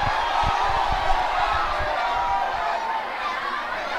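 A large crowd at a school rugby match between Vidyartha and St. Anthony's at Nityavala Rugby Stadium roars in a steady, dense wash of cheering and chatter with a few thumps, loud and continuous.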